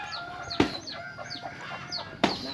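Chickens cluck in a remote valley village in the hills, a run of soft, close calls broken by two sharp knocks, with no talking.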